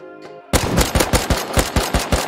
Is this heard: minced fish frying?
no